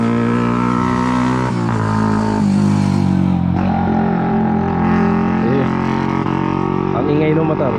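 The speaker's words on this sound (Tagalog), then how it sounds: "Ingay ng motor." A motorcycle engine drones steadily and loudly nearby with shifting pitch as it passes, heard alone without talk in the clip.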